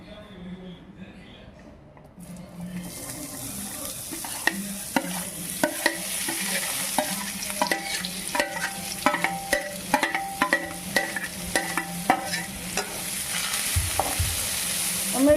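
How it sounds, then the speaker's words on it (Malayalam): Onions and green chilies drop into oil left from frying chicken, with a sizzle building into a steady hiss, punctuated by frequent sharp clicks of stirring against the pan, and a voice heard briefly. "ഇനി ഈ എണ്ണയ്ക്ക് നമുക്ക് സവാളയും പച്ചമുളകും നമുക്ക് ഇട്ട് കൊടുക്കാം."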